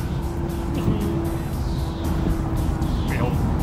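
A Chevy van heads down a driveway at the start of a road trip to Alaska, its engine rumbling steadily and close throughout with broadband road noise, while voices carry on over it.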